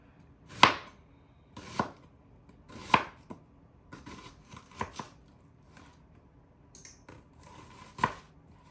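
Knife chopping an onion into half rings on a cutting board, with sharp, distinct strikes at an uneven pace, a few louder chops among softer taps, close and alone without talk.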